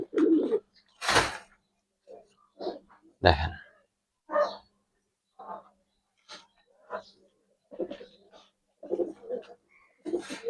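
Giribaz high flyer pigeons, silver and colored, give soft low coos in short separate bursts, close by, mixed with people talking.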